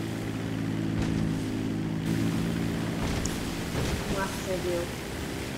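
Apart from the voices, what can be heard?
Dodo seaplane engine over water in video game GTA V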